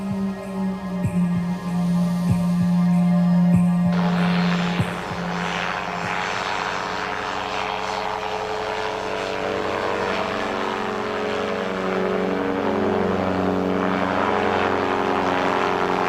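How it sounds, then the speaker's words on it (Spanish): A small condor-shaped motorized hang glider drones overhead above the Sacsayhuaman ruins, its propeller engine giving a steady, loud hum that holds throughout with a slight shift in pitch partway through. "Utilizando un pequeño motor delta con forma de cóndor, nos elevamos sobre Sacsayhuaman para mirarlo desde el aire."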